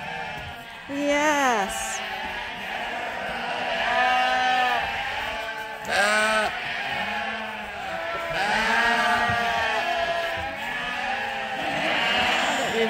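Sheep being brought in for the night on a farm bleat repeatedly, several overlapping calls near and loud, with people talking in between.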